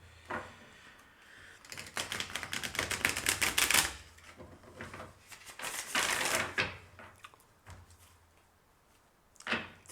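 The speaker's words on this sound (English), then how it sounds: "I need to shuffle first." Tarot cards riffle and flutter in quick, rapid bursts, with a couple of separate shuffling runs and soft handling clicks, close and fairly quiet.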